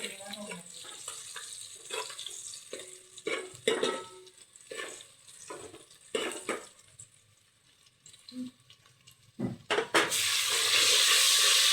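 Sliced onion and tomato fry in a pan with bay leaf for a Kolhapuri khula rassa, a crackling, watery sizzle with stirring clatter that swells into a loud, hissing rush near the end.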